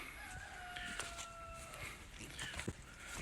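A rooster on an off-grid, solar-powered farm crows once, a drawn-out call heard at a moderate distance, with soft clucking and light farmyard rustle around it.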